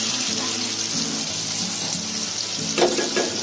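Amul butter sizzles on charcoal heated for five minutes to smoke Konkani-style tandoori chicken at home, a loud steady close hiss with a couple of brief crackling bursts near the end.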